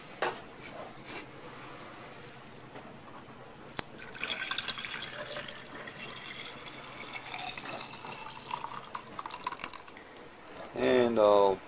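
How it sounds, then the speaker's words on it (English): Thick wheatgrass juice pours and trickles into a container for several seconds, with muffled background noise and a short voice at the end. "Okay, we're ready to pour."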